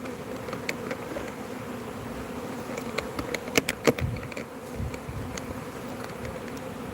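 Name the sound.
bees buzzing around newly installed hive colonies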